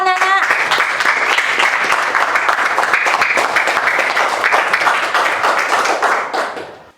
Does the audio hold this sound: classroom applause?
yes